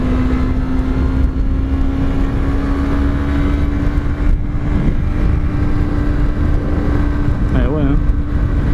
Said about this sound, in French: J'ai l'impression que le moteur va exploser.